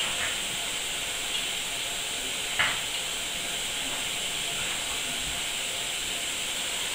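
Cornmeal cakes fry in hot oil with a steady, bright sizzling hiss that stays constant throughout, broken by one brief louder crackle, close and fairly loud.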